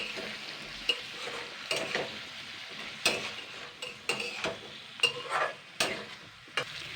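A spice paste of ginger and radhuni is stirred in a hot pan, giving a soft continuous sizzle broken by repeated clinks and scrapes of a spoon against the metal, close and fairly quiet, with no speech.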